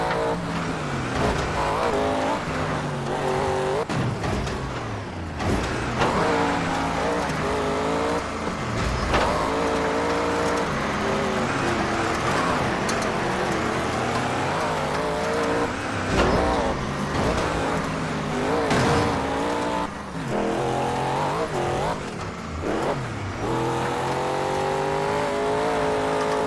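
Race car engines in the video game TOCA Race Driver 3, a steady high-pitched whine rising and falling through gear changes as cars jostle on the final lap, with occasional tire squeal, loud and continuous for the whole stretch.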